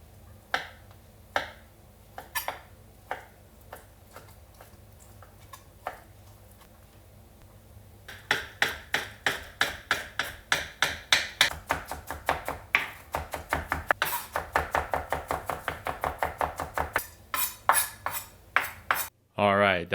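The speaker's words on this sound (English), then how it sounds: "now we're going to start chopping this up and combine it with the jalapeno" A knife chops hamachi fish together with jalapeno on a cutting board: sparse single taps at first, then a fast, steady run of close, crisp blade strikes against the board.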